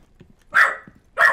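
A dog barks twice, loud and close, with short sharp woofs separated by a brief pause and faint low noise between them.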